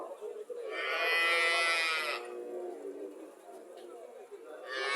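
A Friesian-Jersey cross cow at a cattle market gives a long, loud moo and then, after a pause, begins another, with faint crowd chatter underneath.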